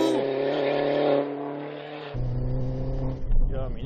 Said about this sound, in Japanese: 乾いたチタンサウンドがかっこいい。